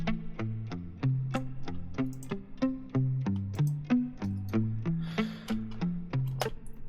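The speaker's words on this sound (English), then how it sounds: "this is how the second guitar sounds" A second pop guitar part plays alone as a bright, rhythmic run of plucked notes in a repeating pattern, clear and close.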